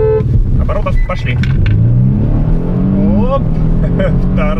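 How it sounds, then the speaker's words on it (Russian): Kia Stinger launching hard from a standstill with traction control switched off, engine loud and rising steadily through the gears, one clear upshift, with someone talking over it. "Тормоз, газ, 2000 оборотов, пошли."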